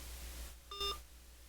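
A phone emits a short, faint electronic beep with a clear pitched tone as a call is disconnected, brief and isolated against quiet background hum.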